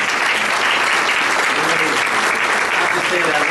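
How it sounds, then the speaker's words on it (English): Sustained audience applause at a business diversity expo, a dense steady wash of many hands clapping loudly for the full length, with faint voices mixed in. "let's give another big round of applause to Tate for the great work he's doing"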